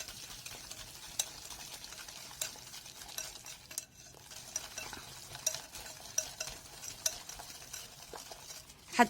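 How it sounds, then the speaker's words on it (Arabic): A hand whisk beats cookie dough mixture in a bowl with a steady run of soft, rapid tapping and swishing strokes, close by and fairly quiet, with no talking. "نعملها بالمضرب اليدوي كده، ان ما فيهاش حاجه. هعمل ايه دلوقتي؟ انا هفضل اضرب فيها كده لحد ما الاقي الخليط بتاعي فتح"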